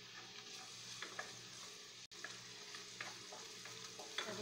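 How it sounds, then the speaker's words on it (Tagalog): Ginger, garlic and onion sizzle and get stirred in a hot pan for Filipino arroz caldo, a steady close frying hiss with occasional scrapes of the spoon and a brief break in the sound. "Lutuin po natin yung ating ginger at garlic. Yan, lagyan na po natin yung ating sibuyas,"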